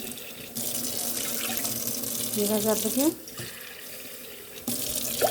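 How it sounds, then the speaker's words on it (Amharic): Water pours steadily into a container while red teff injera batter is being prepared. The stream is close and continuous, swells midway, and a voice speaks briefly over it. "ሁለት ደሲ ውሃ ነው ያደረኩት።"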